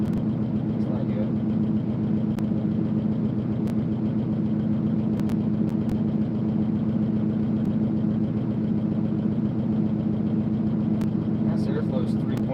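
A rally car engine idles with a suspected air leak, holding a steady, loud, close low rumble for the whole stretch with no change in pace.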